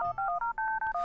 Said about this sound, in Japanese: 電話をかける。